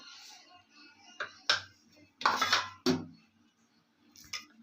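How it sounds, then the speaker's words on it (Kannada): Several distinct clinks and knocks as a mixer jar is handled, irregular and close, separated by quiet pauses. "ಮಿಕ್ಸಿ ಜಾರ್ ತೊಗೊತಾ ಇದ್ದೀನಿ"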